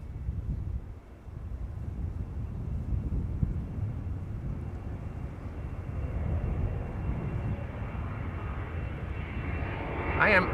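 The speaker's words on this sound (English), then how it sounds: "we have an Embraer 190 to Krakow lined up on runway 24 right now" An Embraer 190 jet airliner sits lined up on runway 24 at Amsterdam Schiphol, a continuous low engine roar under wind buffeting on the microphone, fairly distant and swelling slightly near the end.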